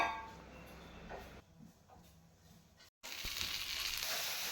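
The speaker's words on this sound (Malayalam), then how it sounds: "ഇന്നലെ വാങ്ങിച്ച ചില്ലി ഉണ്ടല്ലോ അത് ഞാൻ ചൂടാക്കാൻ വേണ്ടി വെച്ചിട്ടാണ് കേട്ടോ ഉള്ളത്" Chilli dish reheating in a pan over a low flame, giving a steady soft sizzle and frying crackle that drops briefly, cuts out for a moment, then returns louder and denser.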